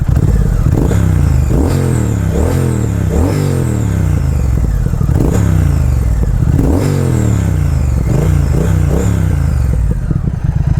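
Triumph Speed Twin motorcycle with Vance and Hines exhaust, a loud engine note that rises and drops through repeated throttle blips and gear changes, heard on the move with wind rush throughout.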